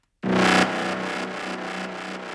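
Gritty, zappy Serum 2 synth tone for psytrance with a filter macro, delay and reverb, striking loudly after a brief silence, then pulsing in rhythmic echoing repeats that hold steady, with no voices.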